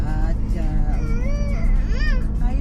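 A child cries loudly and continuously inside a moving car on a long road trip, wailing rising and falling over steady low engine and road rumble.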